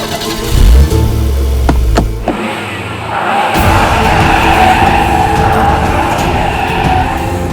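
A car engine cranks with a sharp mechanical whir and thuds that fail to catch, then a steady loud engine-like roar follows, heard alone without voices.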